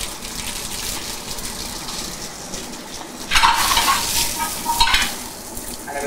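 Crushed garlic cloves and rosemary sizzle and fry steadily in a hot pan in a pub kitchen, with louder bursts of crackling midway as ingredients hit the oil and are stirred, no talking.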